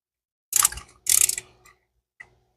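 Ratchet wrench backing out a small 5/16 or 8 mm bolt during fuel injector removal, two short bursts of clicking close by, then a single faint tick after a pause.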